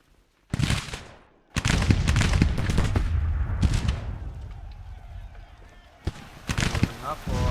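Bursts of infantry musket gunfire aimed at artillery in the Grand Tactician battle game, loud overlapping volleys in several clusters with a quieter stretch between, a voice talking over parts of it.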